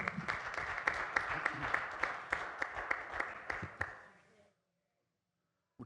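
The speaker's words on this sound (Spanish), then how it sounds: "Un aplauso al senador." A conference audience applauds a senator, steady dense clapping with sharper individual claps standing out, lasting about four seconds before fading out into silence.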